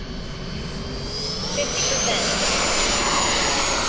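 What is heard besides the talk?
Tomcat 80mm model jet aircraft flying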